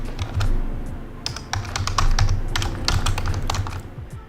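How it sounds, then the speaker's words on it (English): Steady, rapid clicking of keys on a computer keyboard, close and clear, continuing in quick bursts without any voices. "And I'm just gonna type in"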